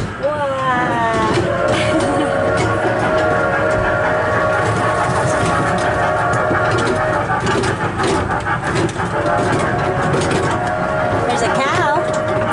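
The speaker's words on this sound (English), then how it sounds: "You're sitting in a train." A zoo ride train carriage rolls along its rails with a constant loud rumble and tonal whine, a steady wash running the whole way through with faint high chirps over it.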